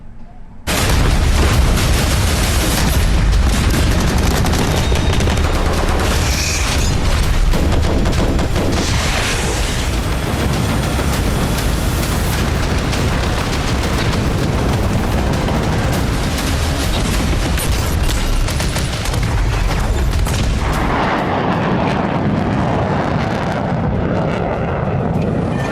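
Dense, continuous rumbling blasts and booms fill the whole stretch, loud and chaotic like heavy bombardment, easing slightly near the end.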